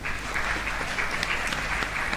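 Brief applause from an audience at a live-streamed event for law students of the National Open University of Nigeria, Apapa Learning Center, a dense patter of clapping with scattered louder claps.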